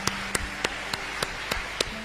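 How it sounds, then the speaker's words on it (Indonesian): Sharp handclaps at a church service, seven evenly spaced claps in a steady beat, close and fairly quiet, with a low hum beneath and no one speaking. "Tepuk tangan padaku."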